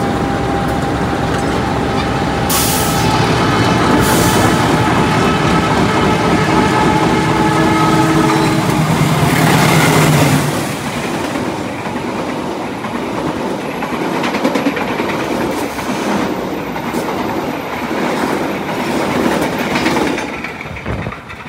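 Sritanjung passenger train pulling into Purwosari station, a loud steady rumble of wagons with clickety-clack and squealing brake tones that ease off partway, continuing as quieter rolling noise.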